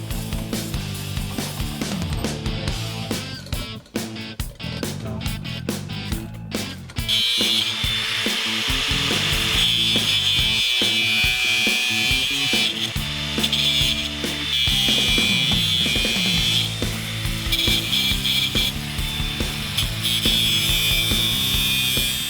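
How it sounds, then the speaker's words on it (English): A power drill with a paddle (spade) bit bores through wood during a cable railing install, a loud, continuous grinding whine with shifting pitch and brief stops, close and with no talking. "the paddle bit was a little cleaner cutting. Yes, the paddle bit is the way to go, or a spade bit as we like"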